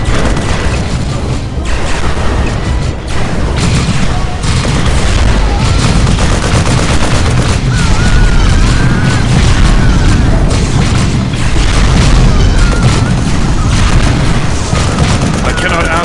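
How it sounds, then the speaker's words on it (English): Dense, loud battle audio from the strategy game Warhammer 40K Dawn of War Soulstorm, Imperial Guard forces in combat: continuous rattling gunfire layered with booming explosions that never let up, with unit voices mixed in. "All units, open fire!"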